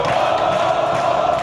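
Football crowd roaring and cheering in Zamalek stadium after a goal, a dense, steady wall of massed voices close around with no break.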